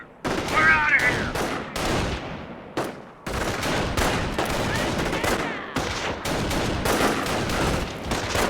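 Gunfire in the World War II strategy game Company of Heroes, with repeated loud bursts of rifle and machine-gun fire and sharp cracks separated by brief gaps, a shouted voice mixed in with the battle.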